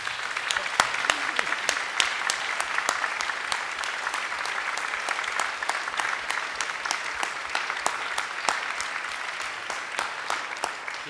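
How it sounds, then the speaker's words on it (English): A crowd applauds steadily, with dense clapping and occasional sharper, more distinct claps standing out from the sound of the room. "we ought to give him a round of applause for what he's done for this country"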